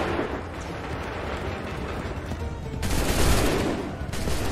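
Musket volley fire during the Lexington and Concord battle in Assassin's Creed III, a dense crackling roar of many shots swelling in loudness near the middle and again at the end, with no talk.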